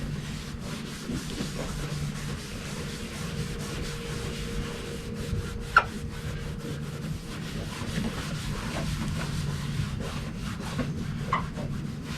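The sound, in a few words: rubbing clarifying compound over a headlight lens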